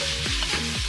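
Pimento seed frying for stewed conch, a short, steady sizzle in the pan with a low tonal hum underneath, close and even, no talking.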